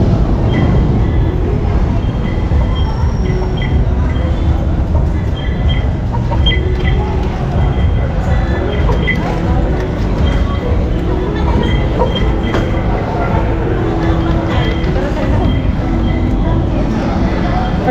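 A light rail train rumbles and clatters loudly at close range at Monumento station in Manila, a constant heavy roar, with voices murmuring underneath.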